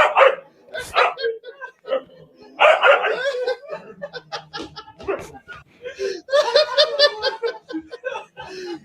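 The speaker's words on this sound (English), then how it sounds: "It's a loyal dog, so don't mess with it." A dog barks repeatedly in loud, uneven bursts in a clip being shown, mixed with laughter and chuckling from people watching.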